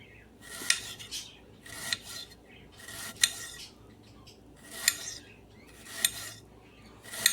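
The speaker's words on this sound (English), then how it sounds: "Now I'm going to slice up an onion as thin as possible." A knife cuts thinly through half an onion on a cutting board, with sharp taps repeating at roughly one-second intervals and faint slicing scrapes between them, close and fairly quiet.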